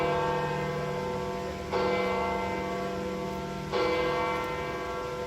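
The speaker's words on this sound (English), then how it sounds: "These bells go off all the time." Church bells ring out at Vatican City, sustained and resonant, with two fresh loud strikes landing over the lingering hum of earlier tolls.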